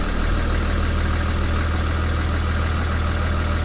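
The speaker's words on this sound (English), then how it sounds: "that clicking noise, that's what I was talking about. And it's very loud." A 6.7 Cummins diesel engine idles loudly and steadily up close, its fuel rail giving off a continuous clicking.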